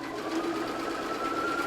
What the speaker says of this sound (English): What make of sewing machine is it? I have the Benina B570, which is the Quilters edition